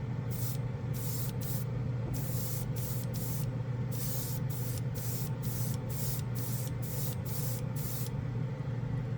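Born Paint chrome spray paint hisses from an aerosol can in about a dozen short bursts of varying length over a steady low hum, with no talking.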